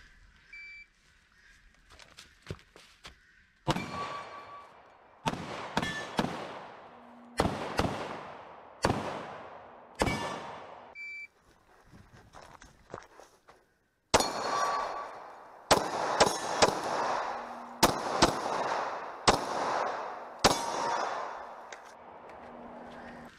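Pistol shots fired in quick strings during IDPA-style practice, the rounds fed from an ETS magazine; sharp loud cracks with ringing decay come in clusters of single reports, with short pauses between volleys.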